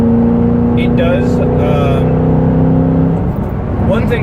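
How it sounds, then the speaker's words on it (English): A 2006 Ford Mustang engine with its mufflers removed drones steadily and loudly from close by, a continuous low hum that holds for about three seconds before easing, with a voice talking over it. "one thing I've noticed from taking the mufflers off is it does drone. It drones a lot."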